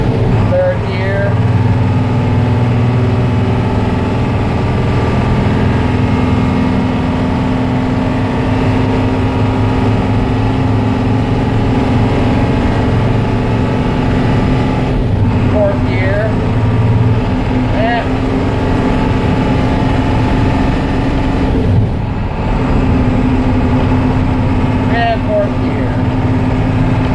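A restored Blue Bird school bus engine runs steadily and loud throughout, its drone holding with slight changes as it moves through the gears, while someone talks over it.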